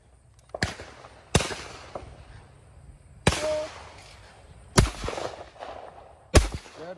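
Shotgun shots at a trap shooting competition at a sports club, heard as five sharp, loud blasts spaced irregularly, each trailing into outdoor echo over a low background.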